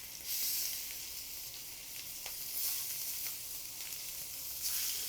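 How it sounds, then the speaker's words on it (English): Baby lamb chops sear in a hot pan with vegetable oil, giving a steady, loud crackling sizzle with a few sharper pops scattered through, close up and with no talking. "Look at how nice it's sizzling."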